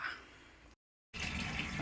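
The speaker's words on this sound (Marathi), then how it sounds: "आज पाणी मस्त लवकर आलं" Tap water gushes steadily as the household supply arrives, a close broadband rush that cuts out briefly to silence and then returns louder and fuller.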